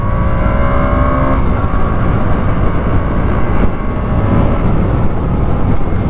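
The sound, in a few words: KTM Duke 125 motorcycle engine accelerating in first gear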